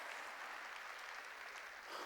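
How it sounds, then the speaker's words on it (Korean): A church congregation applauding during a sermon, a steady wash of many hands clapping at a distance, fairly faint and continuous throughout. "박수로 하나님께 영광을 드려요"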